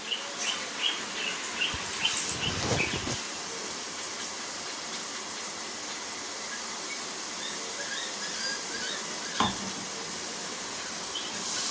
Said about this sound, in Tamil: அதை போட்டு நம்ம நல்லா வதக்கிக்கலாம்.